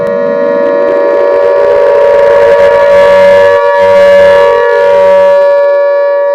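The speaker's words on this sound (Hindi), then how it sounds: "ये सायरन आप लोगों को आगाह करने के लिए है।" A loud wailing siren rising in pitch and then holding a steady, piercing tone, sounding alone and continuously.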